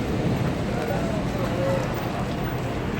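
Heavy rain falling steadily in Madinah, a dense constant wash of rain noise with faint low rumbles, people talking over it.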